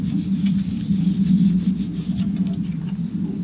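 A sponge dampened with a little vinegar rubs steadily over tarot cards, producing a continuous close, fairly loud scrubbing rasp for the whole stretch.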